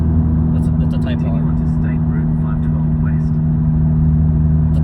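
A Honda Civic Type R FK8 with a GReddy DDR resonated exhaust gives a steady, fairly subdued engine drone throughout, with someone talking over it.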